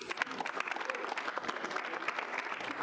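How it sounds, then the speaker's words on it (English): A student senate meeting room fills with a short burst of steady clapping from a modest group, moderately close and continuous for a few seconds. "Give them a round of applause."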